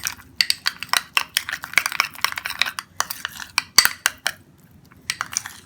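Homemade skin-whitening paste is stirred in a bowl, giving a steady run of close scraping clinks of a spoon against the bowl in quick irregular strokes, with brief pauses and no talk.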